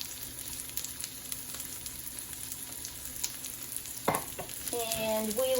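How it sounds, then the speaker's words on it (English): Serving spoon stirring milk into risotto in a pot, soft wet scraping and sloshing over a faint background hum, ending in a brief clatter and ringing tones. "we will just use a serving spoon to mix that up."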